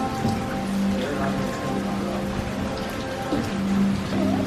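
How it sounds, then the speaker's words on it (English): Rain falling at a lodge resort: a steady dense patter of drops on surfaces, continuous and close, with faint background hum and no speech. "Oh my goodness, it's raining."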